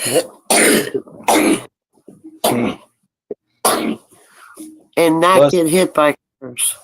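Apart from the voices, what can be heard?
person sneezing and coughing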